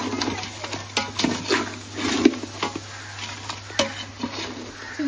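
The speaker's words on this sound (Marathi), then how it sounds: "चिंबोऱ्याचा रस्सा मी बनवते." Crab curry cooking in a pot: a spoon stirs and scrapes in irregular strokes over a soft steady sizzle, close and moderately loud, with no talking.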